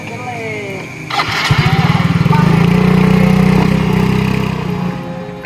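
Motorbike engine started and running close by, a rattling, pulsing mid-pitched idle that swells and then fades slightly, with people talking over it.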